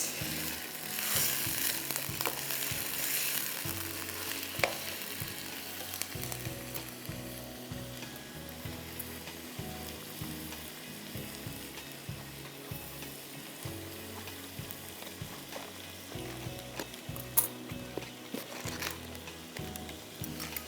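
About 1 kg of chicken, 16 pieces, fries with browned onions in a pan for bhuna chicken. The sizzle is loud and continuous, with scraping and clicking from stirring throughout and no voices.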